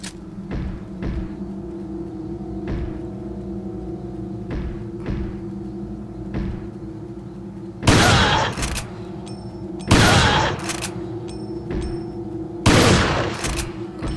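Gunfire in the video game Resident Evil HD: a few sharp, loud shots and bursts stand out over a steady droning game background, with several spaced blasts toward the end.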